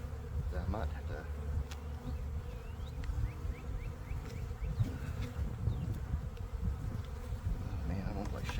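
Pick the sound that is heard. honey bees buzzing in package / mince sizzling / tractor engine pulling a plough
honey bees buzzing in package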